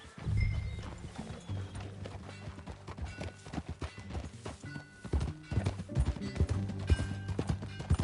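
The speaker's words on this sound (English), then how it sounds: "That new horse?" Hooves clip-clop steadily as a horse walks on a ranch, the rhythmic clopping sitting under a dense, busy background of music and other sound.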